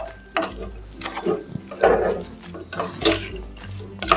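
A spatula scrapes and knocks around a pan as radish with coriander is stirred, with irregular close metallic scrapes and clinks over a faint sizzle.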